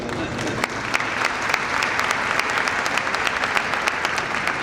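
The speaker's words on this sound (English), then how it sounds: "I think claps are in order" An audience claps at a student outreach program's inaugural ceremony, a dense, sustained round of applause from a crowded hall with individual sharp claps standing out near the microphone.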